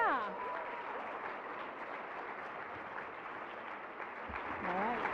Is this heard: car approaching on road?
no